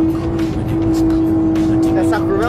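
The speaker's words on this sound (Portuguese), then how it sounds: "Essa curva é louca. O carro chega a ficar de lado" A Porsche sports car takes a fast curve on a track, its engine droning loud and steady with a brief tire squeal near the end, while a voice talks over it.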